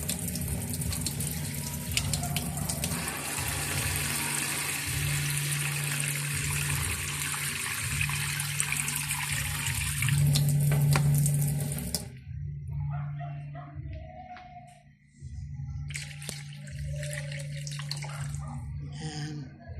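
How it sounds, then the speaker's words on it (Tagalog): Water runs steadily from a tap into a cooking pot for broth, a continuous hissing stream under a speaking voice, then stops, leaving quieter drips and light kitchen clatter. "pwede na po nating lalagyan ng tubig para sa sabaw mga kaguro"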